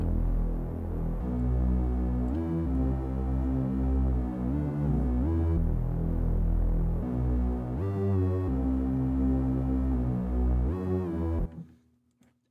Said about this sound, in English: it was like a custom bass I did